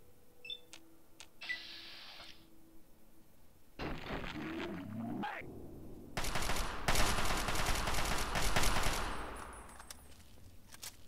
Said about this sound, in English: Maybe he's shooting rad roaches.